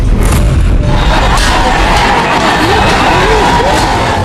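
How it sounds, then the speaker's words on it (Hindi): Dense roaring crowd of kar sevaks tearing down the main dome of the Babri Masjid in Ayodhya, a loud continuous mass of shouting and cheering voices with occasional rising yells, filling the whole stretch without pause. "कार सेवकों की भीड़ ने मुख्य गुंबद को नीचे की तरफ से तोड़ना शुरू कर दिया।"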